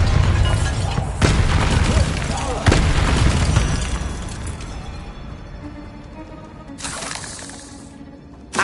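Magical blasts from the Bombarda and Confringo spells in the video game Hogwarts Legacy, set in a tomb. Several booming explosions ring out with shattering debris, and a voice calls out the spells over them.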